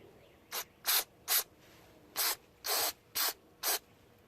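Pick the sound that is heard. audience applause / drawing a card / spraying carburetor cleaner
spraying carburetor cleaner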